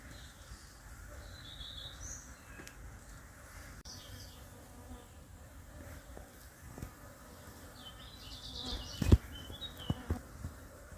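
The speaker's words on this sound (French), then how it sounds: "oui, mais c'est des bruits de moustiques" Thin mosquito buzzing drifts in and out over a quiet outdoor background, with a few faint bird chirps and soft knocks near the end.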